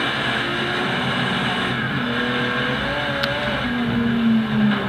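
Car engine in a PC driving video game, a steady droning hum with a few rising and falling pitch sweeps as the car accelerates, alone with no talking.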